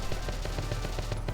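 Rapid bursts of automatic gunfire from a tactical war game set in an occupied enemy camp, repeating in a steady rhythm of sharp cracks over a dense, continuous battle backdrop.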